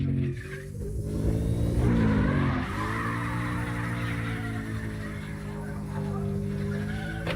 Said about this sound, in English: You can hear it dying down. This damn truck is hard to drive.